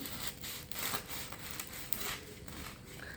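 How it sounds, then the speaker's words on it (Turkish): Knife sawing through a slice of freshly baked whole wheat bread, a close, soft rasping rhythm of back-and-forth strokes with a faint crackle of crust. "Şimdi bir dilim daha kesiyorum"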